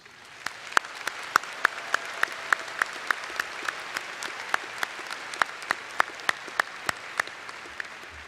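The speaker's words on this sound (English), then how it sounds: "Please join me in applause for these dedicated teachers." Steady, evenly spaced clapping from a high school graduation audience goes on for several seconds, sharp claps standing out over a soft hiss.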